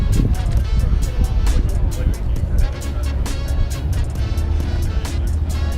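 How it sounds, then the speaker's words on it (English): A Ferrari sports car's engine rumbles as it drives away, mixed with gusty wind buffeting and nearby voices. "Ferrari's leaving."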